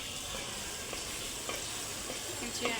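A dish with turmeric powder being stirred on a clay stove: a constant low frying sizzle with a few soft scraping strokes of the spoon, no talking.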